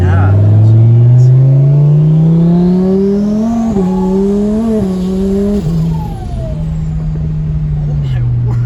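Twin-turbo Lamborghini Huracan engine revving loud and close as the car accelerates, rising in pitch through several gear shifts, with people talking and exclaiming over it.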